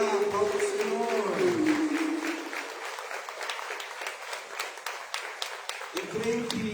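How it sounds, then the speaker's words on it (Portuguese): A church congregation claps and applauds in praise, a dense wash of hand claps throughout, with sung or spoken voices over it at the start and again at the end. "Aleluia, palmas ao Senhor."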